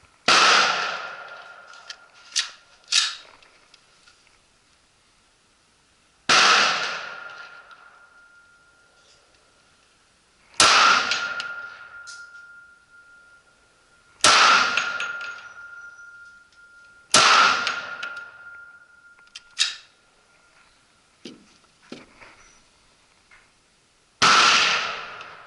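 A Glock .40-caliber pistol fitted with a Lone Wolf barrel and a Vortex Venom sight fires about six loud, sharp shots at uneven intervals. Each crack is followed by a ringing outdoor echo, with a few fainter pops between.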